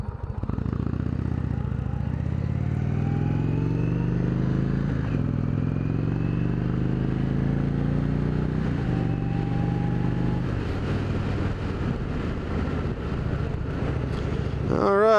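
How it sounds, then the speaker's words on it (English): An Indian Springfield Dark Horse motorcycle engine drones steadily and loudly throughout, its pitch sliding down as it slows under engine braking, with a brief blip near the end. "Engine braking, as always,"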